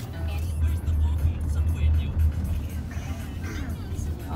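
Road traffic on the way to NAIA Terminal 3 makes a steady, low engine rumble from inside a moving vehicle, with cars passing nearby and a continuous hum that never stops.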